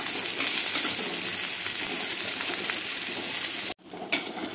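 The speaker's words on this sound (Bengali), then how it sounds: "এখন তেলের উপরে আমি পটলগুলো দিয়ে দিচ্ছি। যে পটলগুলো কেটে রেখেছি সেই পটলগুলো আমি ভালোভাবে ভেজে নেবো এই তেলের উপরে দিয়ে।" Cut pointed gourd pieces sizzle loudly and steadily in hot oil in a pan, a dense continuous crackle that breaks off abruptly near the end, followed by a brief clatter and softer frying.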